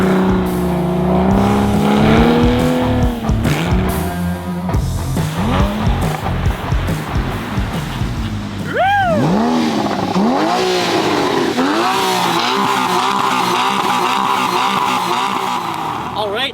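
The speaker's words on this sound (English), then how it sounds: "This exhaust sounds absolutely insane. It's super loud and it sounds exotic" Porsche Cayman fitted with an exotic aftermarket exhaust revs hard and accelerates, its loud engine note climbing and falling through gear changes with sharp rising sweeps, close and dominant throughout.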